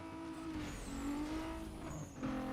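Video game car racing flat out through a city at extreme speed, a steady high engine whine with harmonic tones rising and falling, continuous and close with no talking.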